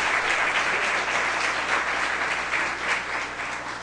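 Sustained applause from an audience fills the room for a speaker at a talk on Joomla! online solutions, a dense even patter of many hands clapping at once.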